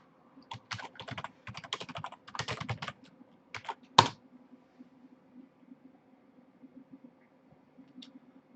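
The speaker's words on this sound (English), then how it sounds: "I'm going to be mischievous and type in a question rather than click for the menu" Someone types a question on a computer keyboard in bursts of quick, close, quiet key clicks, with one sharper loud tap in the middle and a few scattered keystrokes after.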